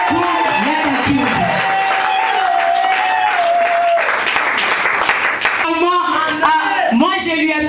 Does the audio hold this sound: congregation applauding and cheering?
yes